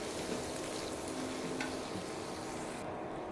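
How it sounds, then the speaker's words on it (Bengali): Dried loitta fish and onion fry in hot oil with a soft, continuous sizzle and faint crackle, fairly quiet and steady throughout. "এটা দিয়ে একটু ভাজা ভাজা করে নিচ্ছি"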